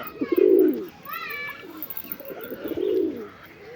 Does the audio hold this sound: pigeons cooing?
yes